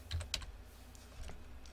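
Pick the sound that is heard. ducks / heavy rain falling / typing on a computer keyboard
typing on a computer keyboard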